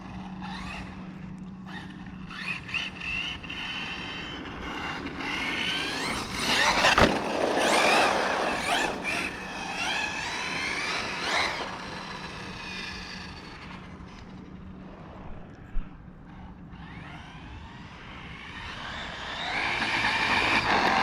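A Team Corally Shogun XP 6S RC truggy driving on its first run with a tire coming unglued, its motor whining and rising in bursts, moderately near, with surges around the middle and end.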